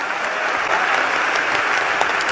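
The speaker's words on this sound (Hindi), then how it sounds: "एक बार ताली बजाओ।" Steady, dense applause from an audience at a Hindu religious discourse gathering, many hands clapping together in a continuous loud wash with no break.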